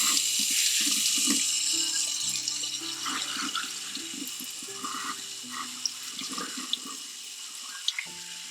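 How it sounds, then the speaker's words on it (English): Water runs steadily from a salon shampoo-bowl tap while hair is shampooed, a continuous close splashing flow with small shifts as the stream hits hair and basin, and a few light knocks near the end. "I will see you at the shampoo bowl, and we'll get her shampooed."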